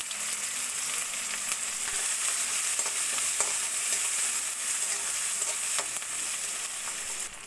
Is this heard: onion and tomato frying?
yes